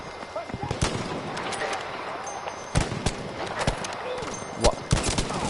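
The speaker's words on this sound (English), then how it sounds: "Can someone remind me why I'm trying to sit out in the open while I'm actively getting shot at by someone?" Video game gunfire, with sharp shots cracking out in scattered bursts, some close and loud, mixed with a player's agitated speech over game background noise.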